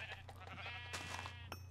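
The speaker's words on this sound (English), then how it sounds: "Oh, and sheep." Sheep bleating in the Minecraft video game, a couple of short wavering bleats over a steady low hum, fairly faint and with no talking.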